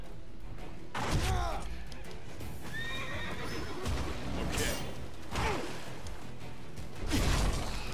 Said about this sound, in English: Well, there's another horse.